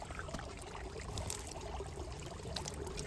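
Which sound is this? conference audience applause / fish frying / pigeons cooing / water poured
water poured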